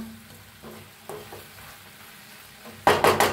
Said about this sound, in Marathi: तर आणि 1 मिनिट तर आपण शिजवून घेऊया.